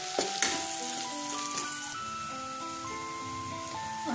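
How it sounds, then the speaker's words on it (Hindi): Chopped onion frying in a pan until golden for an arbi (taro root) curry, a continuous close sizzle with a few stirring knocks near the start and soft background music. "और इसे हल्का सुनहरा होने तक फ्राई कर लेते हैं।"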